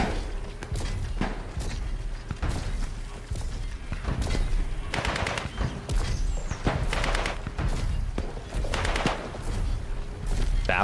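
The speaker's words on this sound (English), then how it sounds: "Someone's shooting." Gunfire in the Atomfall game, repeated sharp shots and bursts in irregular clusters, loud and close, with thuds and footsteps mixed in across the whole stretch.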